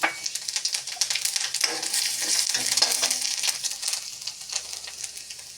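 Dried red chillies and five-spice seeds hit hot oil in a pan that has just fried rohu fish, giving a bright crackling sizzle with popping bursts that stays lively throughout and carries no voices.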